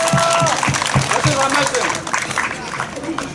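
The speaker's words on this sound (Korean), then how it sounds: "박수 한번 부탁드립니다." Residents at a general meeting clap for a donor, a dense burst of applause heard under loud overlapping talk that thins out partway through.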